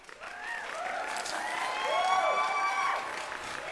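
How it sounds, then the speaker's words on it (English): Canned applause and cheering effect on a magic livestream, a crowd clapping and whooping that swells, peaks midway, then fades out. "Thank you kindly for the claps and the applause"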